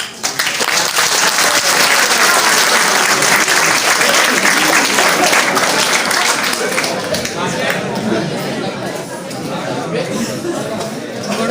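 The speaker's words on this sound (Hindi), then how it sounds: "आप सबकी भरपूर तालियों में" Loud, dense applause from an audience at a university poetry recital of Pakistani poets, sustained clapping with crowd chatter and voices mixed in, gradually thinning toward the end.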